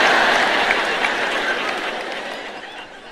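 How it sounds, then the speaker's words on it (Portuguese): A large church audience applauds at a Portuguese-language ministry event, a dense, steady wash of clapping that fills the whole stretch and slowly fades toward the end, with no voice over it. "isso não merece tantos aplausos, não é mesmo?"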